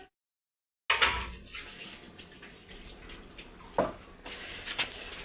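Water pours into a pot of rice for cooking, a close splashing stream that starts after a brief silence and runs steadily with gurgles and small spikes as it fills.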